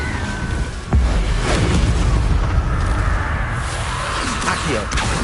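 A Confringo fire spell in the Hogwarts Legacy game: loud booming blasts with whooshing rushes over a dense, rumbling battle din that never lets up.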